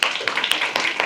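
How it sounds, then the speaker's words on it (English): Audience clapping at a teacher orientation session on inclusive education, a short burst of scattered, uneven hand claps in a room. "Clap."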